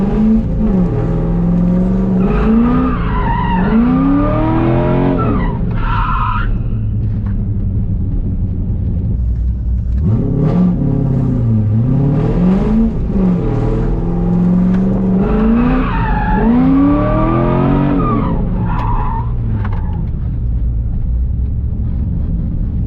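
A C5 Corvette drifting at a Fargo, North Dakota drift event: a loud, close engine repeatedly revs up and falls back, with bursts of tire squeal over a constant heavy rumble.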